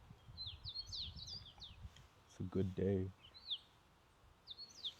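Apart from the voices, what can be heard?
birds chirping in a park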